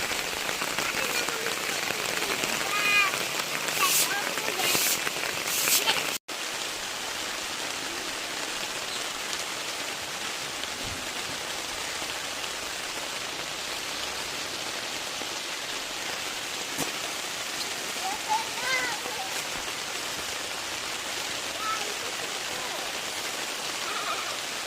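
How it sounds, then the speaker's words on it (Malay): Steady rain patters down over a campsite at Dusun Cikpeah, Batang Kali, Selangor, a dense continuous hiss of drops on surfaces that barely shifts apart from a brief break early on. "Hujan. Ini lagi hujan."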